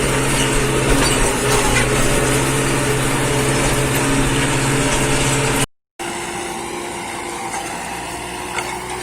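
A tractor engine drones steadily while plowing a seedbed with a disc harrow, a loud continuous mechanical hum with a brief dropout partway through.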